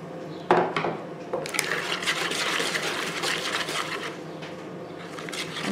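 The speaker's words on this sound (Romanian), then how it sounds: "Încep să torn laptele rece care mai mi-a rămas în vas." Cold milk poured into a bowl of vanilla cream mixture, a steady, close liquid rush that starts after a sharp knock and continues unbroken to the end.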